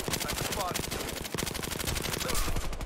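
Rapid machine-gun fire in a shooting video game, a dense unbroken rattle of shots that stays loud and close from start to finish.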